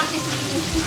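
Catfish sizzles steadily in a copper wok over a wood fire, a close, continuous frying hiss with faint stirring scrapes and no talk.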